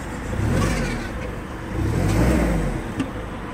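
A Sumitomo FG15 1.5-ton forklift with a four-cylinder engine is revved twice, each time swelling into a rough, rising roar and then settling back to idle.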